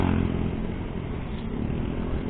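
An Easyride ADV 175 motorcycle engine drones steadily and loudly from start to finish, with a dense, rough low rumble and no voices over it.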